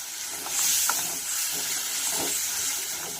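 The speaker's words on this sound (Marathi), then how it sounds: "इथं मी मिक्सरच्या भांड्याला थोडी ग्रेव्ही बाकी होती त्यामध्येच पाणी घातलेलं आहे तेच पाणी यामध्ये घालणार आहोत" Water left from a blender jar with traces of gravy is poured into a sizzling masala for aloo matar, giving a steady steamy hiss that swells near the start and carries on with faint stirring clinks, no voices.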